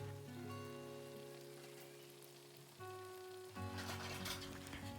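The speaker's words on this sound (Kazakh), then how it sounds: "Дайын болған бауырсағымызды қызып тұрған майда пісіріп аламыз." Baursak dough frying in hot oil, a soft steady sizzle and bubbling with occasional louder crackles near the end, with no voices.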